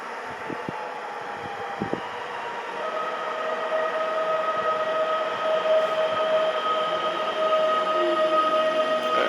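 A Koleje Małopolskie regional passenger train to Tarnów pulls away in Kraków, its rumble and rising mechanical whine growing steadily louder and closer, with a few clanks near the start.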